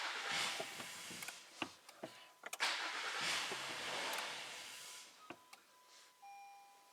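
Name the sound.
2015 Acura TLX engine starting and idling briefly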